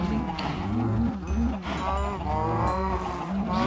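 Cows moo over and over in a farming video game, several loud, drawn-out calls overlapping one another without pause, with no voices.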